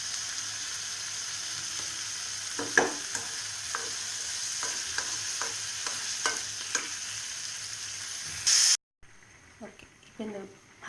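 Onion and tomato sautéing in a pan and stirred for a simple tomato gravy: a steady sizzle with repeated scraping strokes, close and fairly loud, ending with a brief cut and a quieter stretch of stirring.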